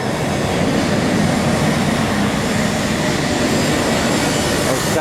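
A Southwest Airlines jet arriving from New Orleans makes a loud, steady broadband roar that holds at the same level throughout without pause.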